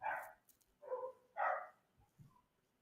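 Dogs bark in a series of three loud, fairly close barks, followed by a softer yip or whimper, with no talking.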